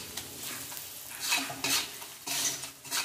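Spice masala with salt and turmeric being stirred and sautéed in a pan, spatula scrapes recurring irregularly over a low continuous sizzle, close but quiet, with no talking.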